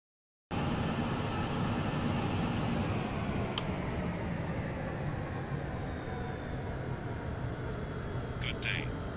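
Airliner engines in a flight simulator during the takeoff roll, a steady loud broadband roar that starts abruptly and holds constant, with a couple of brief faint clicks along the way.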